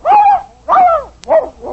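A dog barking in an old dog food radio commercial, three loud close barks with a whining, yelping tone, each followed by a short pause, with no talk over them.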